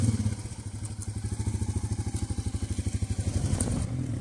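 A motorcycle carries a rider and a pillion passenger toward a resort near Bhimtal, its engine thumping in a fast, steady rhythm close by with road rumble and no talk.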